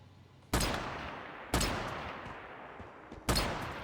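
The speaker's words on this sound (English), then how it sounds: "I should probably shoot you" Gunshots in the video game Once Human: three loud, sharp shots at irregular intervals, each followed by a long decaying reverberant tail, with no talking.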